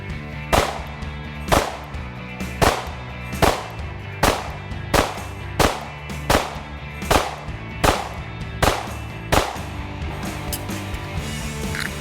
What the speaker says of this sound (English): I want you to go ahead and just fire off a couple mags and let's make sure these pistols run